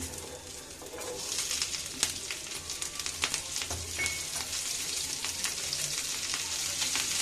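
Beans and vegetables sizzle steadily in refined oil in a pan for spring roll filling, a continuous close frying hiss with occasional pops and stirring clatter throughout, no talking.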